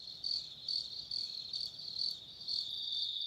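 Crickets chirp steadily in a forest at night in Sequoia and Kings Canyon National Parks, their high trills pulsing in a continuous, even rhythm with no voices.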